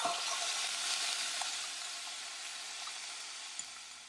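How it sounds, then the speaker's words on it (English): Ground pork stir-frying in a pan, a steady broadband sizzle that is loud and close, easing slightly over a few seconds with a faint utensil tap near the end, no voices. "Time to stir fry the ground pork."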